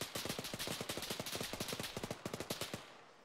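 Rapid automatic gunfire from the military shooter Arma, a steady rattle of dense bursts lasting about three seconds before cutting off, loud and close with no talk over it.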